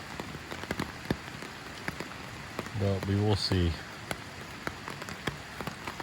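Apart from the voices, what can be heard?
rain falling on a tarp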